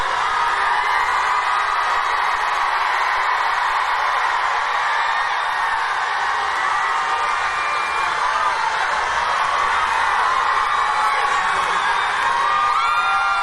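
A huge crowd at a Barack Obama rally in Georgia cheers and whoops continuously, a dense roar of voices sustained loudly from start to finish.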